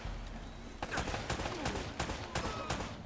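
Gunfire in the video game Uncharted, with a rapid string of sharp shots rattling out in short bursts at close range over a low background.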